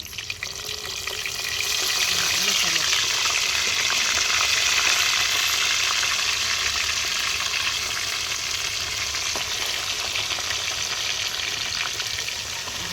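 Stuffed eggplants frying in a cumin and mustard seed tempering, giving a loud, steady, hissing sizzle that rises in the first two seconds and then holds evenly with no talking.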